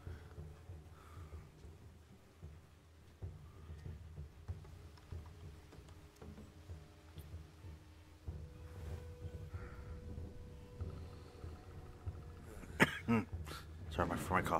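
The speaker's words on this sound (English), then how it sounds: "Sorry for my coughing." Coughing and throat clearing from someone playing the kung fu video game Sifu, with quiet game sound and murmuring beneath, then a few sharp, close coughs bursting out near the end.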